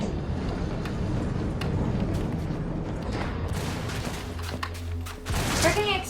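Explosions from a minefield in The Button video game, a continuous heavy rumble of blasts and booms with sharper crackling bursts near the end, loud throughout.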